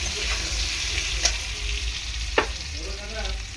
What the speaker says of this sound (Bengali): নুন হলুদ দিয়ে আলুটা ভালো করে ভেজে নেওয়ার পর